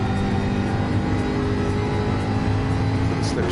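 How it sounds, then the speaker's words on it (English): A Gran Turismo 7 race car, a Jaguar in a Gr. 4 race, holds a loud, continuous engine drone as its note climbs in the slipstream of the car ahead, with no gaps or pauses. "listen for the engine note to rise as it gets that slipstream"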